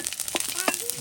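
Spices fry in hot oil in a home kitchen, a soft, steady sizzle with small crackles, close by and fairly quiet.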